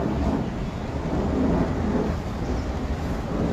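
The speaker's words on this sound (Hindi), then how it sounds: "थोड़ी टिप टाप बारिश भी हो रही है" Light rain and strong wind outdoors in chilly weather in Ranchi, a dense, steady broadband rush that holds at a constant loud level with no speech.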